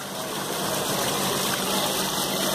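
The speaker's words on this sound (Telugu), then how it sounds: "వాటర్ ఫ్లో పెట్టు" Water gushes steadily through a small model Kaplan turbine, a continuous loud rushing flow with a faint mechanical hum underneath, holding even for the whole stretch.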